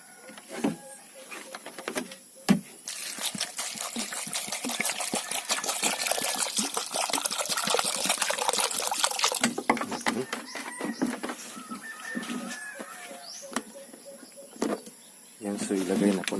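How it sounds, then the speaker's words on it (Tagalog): Water poured into a cooking pot for a Visayan-style vegetable dish, a steady splashing rush building for several seconds and then thinning to trickles and light clinks, close by. "so lagyan natin ng tubig"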